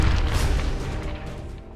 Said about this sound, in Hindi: भीतर से आतंकी ने ग्रेनेड फेंक दिया